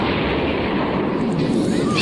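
A dense, sustained blast roar from an explosion sound effect in a Tagalog-dubbed Flame of Recca anime episode, loud and broadband throughout the short stretch with no other sound standing out.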